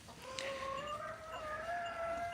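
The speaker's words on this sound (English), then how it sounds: "There's chickens laying eggs in the background." Hens in a barn calling with a steady, drawn-out tonal cluck that rises slightly over a couple of seconds, fairly close and alone, with no talking.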